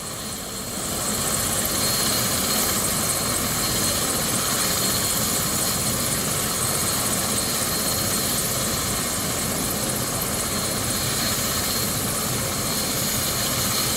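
Hospital helicopter sitting on a rooftop in Brunswick, Georgia, its engine and rotor making a steady loud whine and rumble that holds constant for the whole stretch, with no talk.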